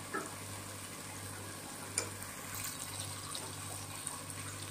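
Ginger, garlic, turmeric and asafoetida sauté in an open pressure cooker for a country chicken gravy, a faint continuous sizzle over a low steady hum, with an occasional soft clink, quiet and close.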